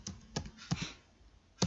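Keystrokes on a computer keyboard while filling in a teacher's form, a few crisp close clicks spaced irregularly with a short pause between them, no voices.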